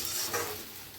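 Okra frying in a pan, a short steady sizzle with faint stirring and no voices.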